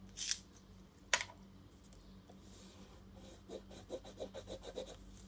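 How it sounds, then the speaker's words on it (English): A red colored pencil being sharpened, a quiet dry rasping scrape of wood and lead in short bursts with a couple of sharper knocks, close and faint, with no talking. "I can only sharpen this bit. Got to sharpen it."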